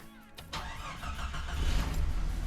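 A Jeep Cherokee XJ in neutral cranks briefly, then its engine catches and rises into a steady, close idle, alone without any talk.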